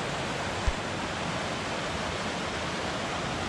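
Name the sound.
flowing stream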